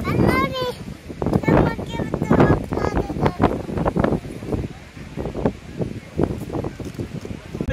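Wind blows across the top of Nandi Hills, buffeting and rumbling against the microphone in continuous gusts while people talk over it, including a voice.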